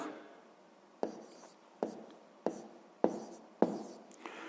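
Numbers being handwritten for a sixth-grade maths exercise: a faint continuous pen-on-paper scratching broken by five or six sharp taps as strokes begin, close and quiet with no talk.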